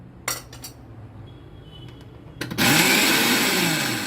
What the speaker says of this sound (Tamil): இப்போ கடைசியாக தேங்காய் பூவை போட்டு நல்லா அரைக்கணும்